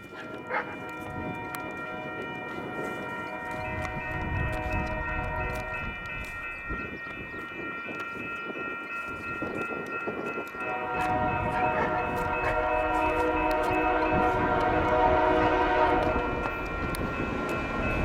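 Westbound Union Pacific mixed freight train rolling past on track 2 in cold weather, its horn sounding in long sustained blasts over a steady rumble of wheels and cars that swells louder toward the end.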